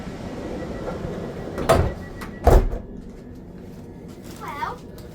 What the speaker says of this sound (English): I'm going to just shut the door.